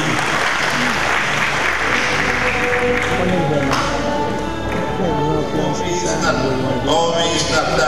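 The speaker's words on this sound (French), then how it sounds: "Acclamez-la encore une fois, s'il vous plaît" A graduation crowd at Eagle International College gives a loud, sustained round of applause for the top graduate, with thuds and scattered voices mixed into the clapping.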